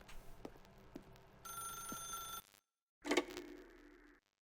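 In The Stanley Parable, a telephone rings with a bright, buzzing electronic trill, then a second burst after a short silence, clear and alone.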